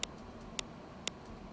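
Three short, crisp ghost-kick blips from an electronic dance track's Ableton session tick at a steady pace over a quiet background, each one brief, bright and clicky.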